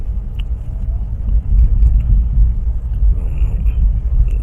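A vehicle rolls along an uneven road on a trip toward Shirdi via Nagarsol, giving a steady low rumble with bumps and jolts throughout, close and loud with no talking.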